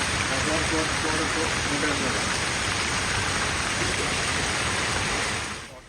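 Heavy pre-monsoon rain in Kochi pours down in a dense, steady roar that fades out at the very end, with a faint voice briefly audible near the start.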